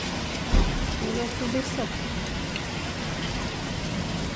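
Steady heavy rain pours down, a broad hiss that runs through the whole clip, with a low rumble that could be thunder. A person speaks briefly over it.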